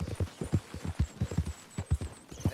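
Horse hooves clip-clop at a steady walking rhythm on a road in the video game Red Dead Redemption 2, close and even, with no talk over them.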